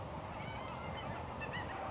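Bird calls chirp faintly through a steady bed of music in an album, brief high notes rising above the background wash.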